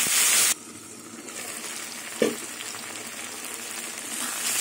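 Vegetables frying in a covered pan with onion and salt, a steady soft sizzle throughout, briefly louder at the start, with one small clink partway through.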